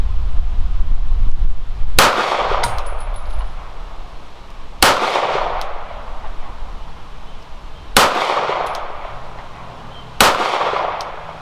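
Four sharp, loud gunshots from a Kimber KDS9c pistol at a shooting range, spaced a few seconds apart, each with a ringing metallic tail over a steady background hiss, and no talking.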